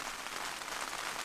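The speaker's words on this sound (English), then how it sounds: "what a timing with the rain" Rain patters steadily on a canoe camping site in a soft, even hiss of countless drops, faint and continuous with no voices.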